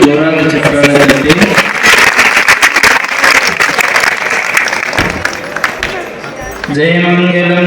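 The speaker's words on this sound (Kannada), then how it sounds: "ಎಲ್ಲರೂ ಜೋರಾದ ಚಪ್ಪಾಳೆ" Loud, dense applause from a gathered crowd at a cradle and naming ceremony in a Hiremath temple in Kalakeri. The clapping swells in right after singing, holds strong for several seconds, then fades as melodic sound returns.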